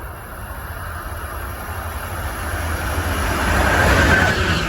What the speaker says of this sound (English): approaching right away is train 193 from New York to Washington